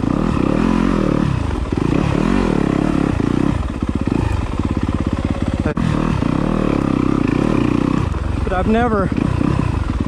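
A dirt bike's engine revs and bogs constantly as it climbs over rocks on a singletrack trail, loud and close, with clattering from the terrain and a rider talking over it.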